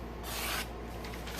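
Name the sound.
Ganzo knife cutting during a sharpness test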